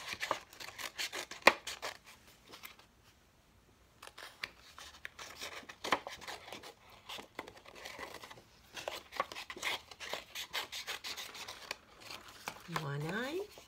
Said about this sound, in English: Take scissors, and now I'm going to cut the eyes going around.